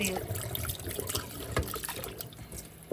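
Pork spare ribs rinsed under running tap water give a steady, close trickle and splash for about three seconds, ending in a sudden louder thump or splash.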